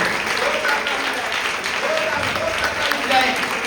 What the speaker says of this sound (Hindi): ताली जय प्रभु यीशु मसीह के लिए।